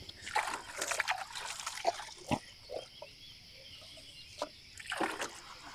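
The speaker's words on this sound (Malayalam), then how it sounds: "സൽമന്റെ പാത്രം ഒന്ന് കഴുകി വെക്കാം അല്ലേ?" Water sloshes and trickles in short, irregular bursts as a bowl is rinsed, with quiet gaps between splashes.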